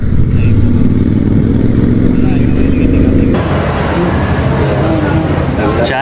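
A Royal Enfield Interceptor 650 Mark 2 motorcycle rumbles loudly and steadily while riding on the road in winter, with the engine and traffic noise close and continuous and a brief voice mixed in.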